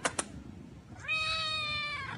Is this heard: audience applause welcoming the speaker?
no